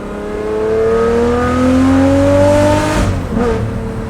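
A straight-piped Lamborghini Murcielago engine roars loud and close from inside the car, revving up with rising pitch, then dropping sharply on a shift before pulling again.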